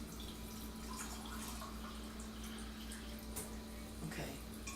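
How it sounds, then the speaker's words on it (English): Cold well water running into a container while kombucha is being prepared, a steady soft splashing and trickling stream heard close up with a faint background hum throughout. "so let me add some more cold water to that"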